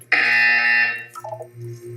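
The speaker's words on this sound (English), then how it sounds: "You will hear a buzzer." A loud electronic buzzer in the video game Portal 2 blares for about a second, then drops into a few shorter, lower tones and a humming beep.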